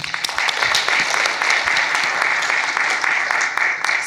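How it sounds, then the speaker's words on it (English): A conference audience at a data science event applauds the organizers, sustained clapping with sharp individual claps standing out across four seconds. "can we actually have a huge round of applause for the organizers"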